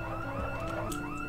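A car alarm in the video game Project Zomboid wails in a rising and falling electronic tone, steady and moderately loud, with nobody talking.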